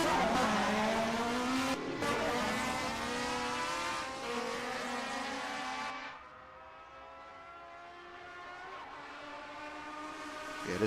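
A Ford Capri race car in a racing video game, DRM 1978 season at the Norisring, engine screaming at high revs with a steady, sustained roar and shifting pitch as it is driven hard.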